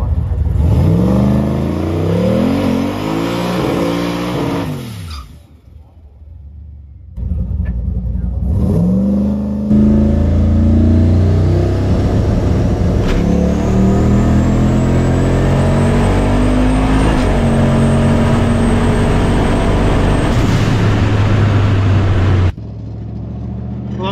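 A drag race car, either a 3RZ or a turbo LS at Kenda 660 in Palmyra, launches and accelerates hard. The engine climbs through loud revving sweeps with a brief drop at a shift and another quiet gap, then pulls again and cuts off.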